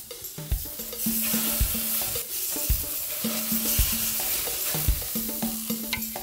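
Marinated tuna pieces sizzle loudly on a grill grate in a steady, close frying hiss, broken by repeated low thumps and scrapes as they are moved.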